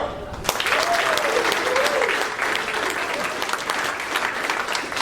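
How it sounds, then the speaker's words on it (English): Loud, sustained applause from a stand-up comedy audience in Royal Oak, Michigan fills the room as a comedian is introduced, with clapping throughout and a few whoops rising above it. "So our first up, make some noise for the lovely Gina Joy."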